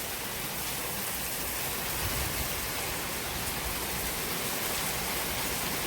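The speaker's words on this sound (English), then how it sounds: "This is just a little rain we consider in Florida." A light rain shower in Florida soaking orchids, an even, continuous hiss of falling drops that stays steady throughout with no voices.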